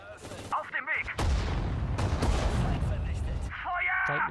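Gunfire and artillery-style blasts in the WWII strategy game Sudden Strike 4 on PS4: dense, loud sustained volleys and booms filling the middle of the clip, with brief game voice lines before and after.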